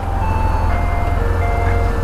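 A jingle from an ice cream truck in downtown Los Angeles plays its tinkly melody over the heavy, close rumble of a BMW R 1150 GS motorcycle engine and road noise.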